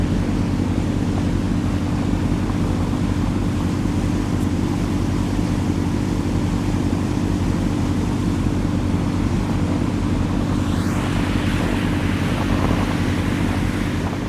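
Steady loud wash of sea spray and engine drone aboard the Ocean Dragon 01 ferry crossing rough, big waves from Setulang, Johor to Batam Centre, with constant wind buffeting and a brief whoosh near the end.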